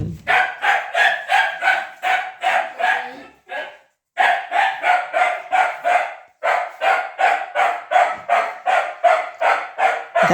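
Several dogs bark in rapid repeated bursts while waiting for breakfast at a busy multi-pet home, loud and close, with one brief pause before the barking resumes.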